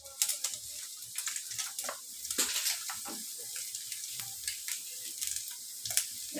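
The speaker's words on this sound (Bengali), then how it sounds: "মাংসগুলো নেড়ে নিচ্ছি।" Chicken pieces being stirred in a frying pan with garam masala and Maggi masala while making chicken singara filling: a soft, steady sizzle broken by scraping, clicking stir strokes, faint and close.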